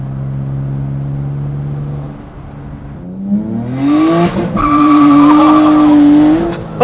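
A turbo V6 Honda accelerates hard, its engine note rising steadily as the boost builds and the tyres spin and chirp, loud and close with no voices.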